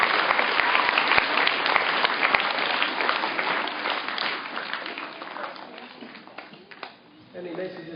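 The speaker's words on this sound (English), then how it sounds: "Give them a clap." Applause from a school assembly audience fills the room, loud and continuous with sharp individual claps at first, gradually thinning and fading toward the end as a voice briefly speaks.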